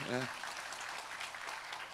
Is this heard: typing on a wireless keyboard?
no